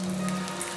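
Steady rain falling in a film drama, an even hiss of drops with a low hum underneath, continuous and fairly close, with no voices.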